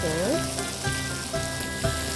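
Prawns half-cooking in a hot pan for spicy Marmite seared prawns, a continuous loud sizzle and crackle with brief clinks and stirring sounds over it, close up, with no talking.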